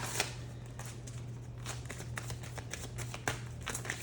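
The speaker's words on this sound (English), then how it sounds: "So give me 1 second while I shuffle these babies up." A deck of tarot cards is shuffled by hand, giving a steady run of soft riffling and papery flicks with a few sharper snaps, close and quiet, with no talking.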